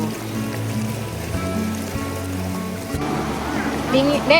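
A river stream flows at a campground in Megamendung, Puncak, Bogor, a steady broadband rush running under nearby talk and voices throughout.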